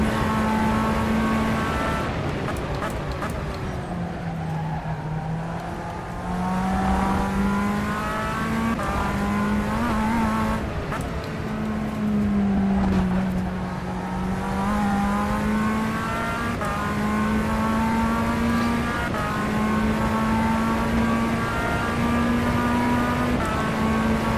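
Tatuus F3/F4 formula race car engine in the rFactor 2 racing game, a loud continuous drone that rises and falls through gear changes and revs, with occasional tire noise and no speech.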